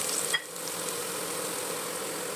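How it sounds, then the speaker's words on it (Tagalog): Garlic and onion sauté in a single pan, giving a steady broadband sizzle that holds evenly throughout, with one brief clink near the start. "igisa natin yung bawang. Same pan lang tayo. At syempre, sibuyas."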